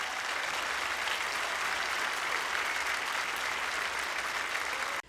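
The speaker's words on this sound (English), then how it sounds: "Give them a round of applause." Dense, steady applause from a holiday concert audience after a high school choir performance, loud and continuous for about five seconds before cutting off abruptly at the end.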